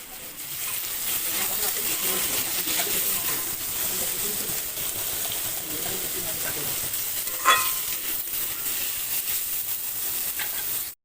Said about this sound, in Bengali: তো আমি চিংড়ি মাছগুলো এখন ভাজতে দিলাম